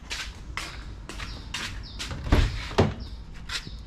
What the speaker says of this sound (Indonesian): Kita buka pintu yang sebelah kanan.